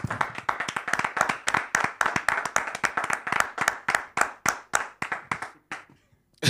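A church congregation breaks into rhythmic clapping, dense and steady hand claps at close range that thin out and stop near the end, with no talking over them.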